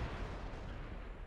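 Artillery fire from the Wespe self-propelled gun in World of Tanks: a dense, low rumbling boom that fills the whole short moment, quiet and muffled with no clear attack.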